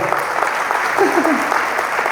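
A church congregation applauds a man named Gabo after a sermon exchange on forgiveness, steady loud clapping from many people close by, with a few voices calling out under it.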